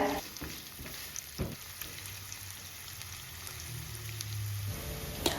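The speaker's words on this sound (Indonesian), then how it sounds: "untuk menggoreng si bawang bombaynya, kita tumis sampai benar-benar dia itu layu dan wangi" Steady sizzling of onions sautéing in hot oil, a continuous crackle with occasional stirring clatter, close and moderately loud, no voices.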